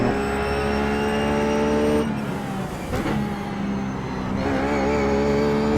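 A Ruf GT3 race car engine at Brands Hatch in iRacing holds a loud, steady, high-revving note that drops briefly twice, as if through downshifts, then climbs again. No voices can be heard over the engine.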